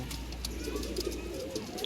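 A young pigeon at a pigeon sale gives soft, low coos in a few short calls, faint against steady background noise.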